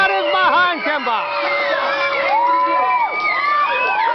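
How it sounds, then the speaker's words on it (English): A pro wrestling crowd, including youngsters at ringside, cheers and shouts continuously for the wrestler Kimba, with loud overlapping voices and whoops throughout. "Oh, and the crowd is behind Kimba"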